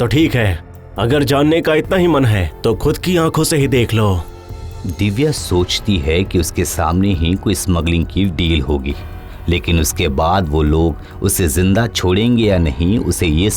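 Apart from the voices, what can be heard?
No distinct noise like a dog, phone or traffic.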